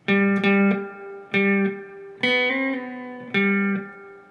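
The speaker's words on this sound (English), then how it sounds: "Part 2 played all together in slow will sound like this." Slow run-through of a song's part 2 riff on guitar: clear plucked notes in four short phrases with hammer-ons and pull-offs, each ringing briefly before the next, played alone.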